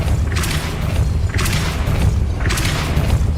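Three heavy booming impacts from the Depulso force spell in the video game Hogwarts Legacy, each a loud whooshing thump followed by a rumbling tail, evenly spaced about a second apart.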